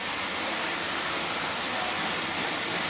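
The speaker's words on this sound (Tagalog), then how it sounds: "Pag yung bumabaha, ito na po. Lalo po kung malakas ang baha." Strong floodwater rushes past a patchwork house in a steady, loud, broadband roar that never lets up, close by and heard alone without talk.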